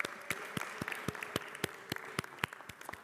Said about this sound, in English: let's applaud the fathers in here